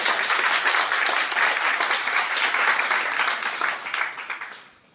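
Enthusiastic audience applause at a motivational talk, dense sustained clapping that holds steady and then fades out near the end.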